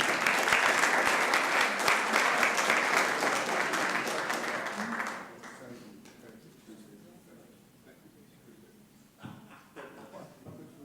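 Audience applause at a city council meeting: dense, lively clapping for about five seconds that quickly thins to scattered claps, followed by quieter room sound with people talking.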